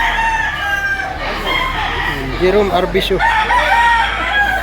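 A rooster crows once midway through, fairly close, while a person talks over steady background noise at a rooster market in Batangas where sellers and buyers gather.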